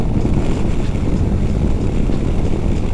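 A 2021 Yamaha Tracer 9 GT motorcycle on open throttle, heard as a loud, dense, continuous roar heavy with wind buffeting, steady with no break in intensity.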